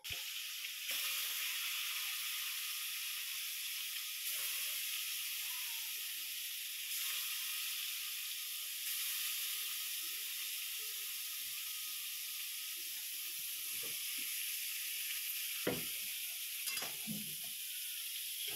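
Fish fries in hot oil in a wok, a soft, steady hiss that holds evenly throughout, with a few faint clunks toward the end.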